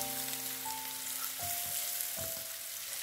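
Bacem, sweet spiced tofu or tempeh, frying in sticky, darkened oil in a home village kitchen, a constant soft sizzle with a few louder pops, a steady tone humming beneath it.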